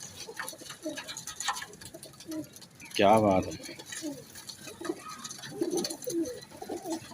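Red-eyed pigeons cooing nearby in a short throaty burst, with people talking over and around the calls.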